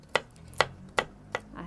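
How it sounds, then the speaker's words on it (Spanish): Walnuts chopped with a kitchen knife on a board while making cauliflower with oat cream: five crisp, evenly spaced chops, close and distinct, with quiet gaps between them. "Las vamos a picar aquí con el cuchillo"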